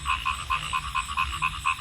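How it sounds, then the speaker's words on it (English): A small frog croaks in a fast regular series of about nine loud, close, bright pulses over a low rumbling background, with no one talking. "let's see how a small frog make this much big sound"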